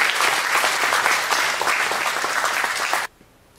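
A church congregation applauds loudly and steadily for about three seconds, then the clapping stops abruptly, leaving near silence.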